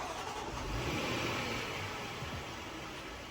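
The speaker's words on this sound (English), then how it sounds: "On this particular vehicle, you would have to press lock, unlock, and lock, and the car will start." A 2017-or-later Land Rover Discovery engine runs after a remote start, a steady, fairly close idle hum with broadband whir and no voices.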